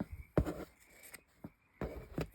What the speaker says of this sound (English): So I'm going to cut that off.